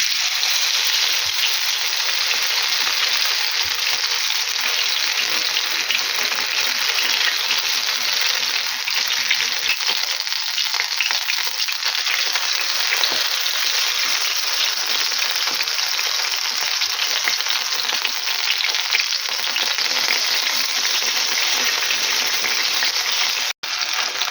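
Steady, dense sizzling and crackling of grated potato pancakes frying in hot oil, loud and close, continuing without a break.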